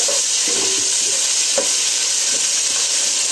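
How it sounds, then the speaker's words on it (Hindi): Onion with ginger garlic paste sautéing in a pan for Hyderabadi khichdi khatta, a steady close sizzle with occasional soft stirring clicks, no talking. "अब डाल के इसको अच्छी तरह से भून लीजिए"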